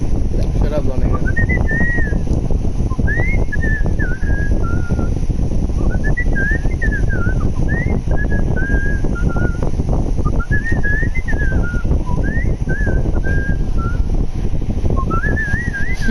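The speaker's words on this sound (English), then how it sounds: "Your whistling is so funny." A person whistling in short, repeated warbling phrases with pauses between, close and fairly loud over a constant low rumble and background noise, with no clear talk.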